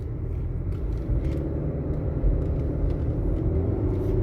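A car climbing uphill on the original Watkins Glen 6.6-mile Grand Prix course, a continuous low engine rumble heard from inside the cabin at moderate speed, steady and loud without talk.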